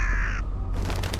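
A crow gives one harsh, drawn-out caw close by in a creepy night setting, followed by a low rustling and steady background rumble.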